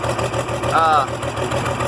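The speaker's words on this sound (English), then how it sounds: "Tractor started okay" An IH Farmall 706 tractor engine idles steadily at close range with a low, even rumble, and a voice is heard over it.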